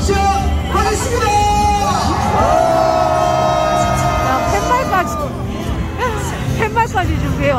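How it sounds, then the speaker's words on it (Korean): A crowd at a Busan candlelight rally roars and cheers, with whoops, shouting voices and a loud sustained tone rising over the din, and the noisy hubbub continuing throughout. "여러분들의 힘찬 함성과 박수 소리로"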